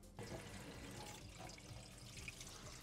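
Water running steadily from a hot tap to release pressure from a Megaflo hot water cylinder, a continuous hissing splash into a sink, near and fairly even throughout.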